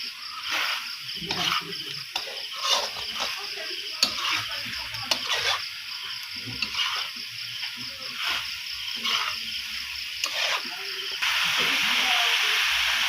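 Pork adobo cooking in salt and garlic sizzles and hisses steadily in a pan, with intermittent stirring clicks and scrapes throughout and a louder hiss toward the end.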